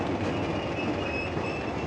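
Amtrak Empire Builder passenger train rolling into the station at Williston, North Dakota, a loud, close, continuous rumble with wheel noise and faint high squeal, no talking.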